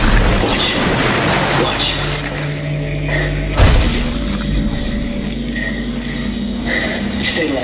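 In the game Dead Space 3, blades are pulled by kinesis and fired back at enemies: a dense, loud wash of rumbling game effects with a sharp impact midway, while a voice briefly speaks over it.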